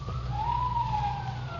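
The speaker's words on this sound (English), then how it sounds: "police siren" A police siren sounds as a radio drama effect, one steady rising-and-falling wail held loud and close with no voices over it.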